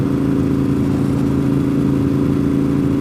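A Ducati 848 motorcycle engine drones loud and steady while riding on a mountain road, a continuous low mechanical hum with a faint whir.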